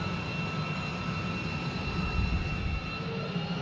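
An F-35 jet engine runs in a hover pit, a loud, sustained roar with a steady high whine, rumbling and surging slightly in the low end but never letting up.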